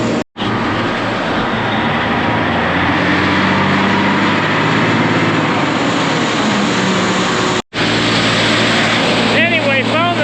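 An old grain blower running on a farm during high-moisture corn handling gives a loud, steady roaring whine close by, briefly cut twice, with a voice heard over it near the end.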